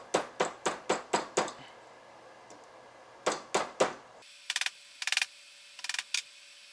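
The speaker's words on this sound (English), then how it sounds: "Just take a rawhide mallet." A rawhide mallet strikes a wavy wire wishbone ring flat in quick runs of sharp taps, first six rapid blows, then three more after a pause, close and dry, followed by softer clicking.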